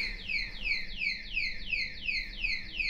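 A car alarm wails in a repeating series of loud, falling electronic sweeps, about six cycles in a steady rhythm, clear and alone.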